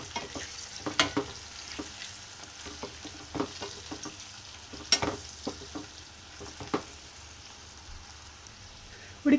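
Mango pieces and turmeric stirred in a pan for dal give a soft, continuous sizzle under scattered scraping clicks of the spoon, some louder than others, with no speech.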